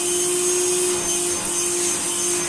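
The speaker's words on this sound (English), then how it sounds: "this is going to be a cheap vacuum cleaner" A Hoover Sonix vacuum cleaner running at minimum power drones steadily up close, a constant whine with a low hum beneath, running at an even level without change.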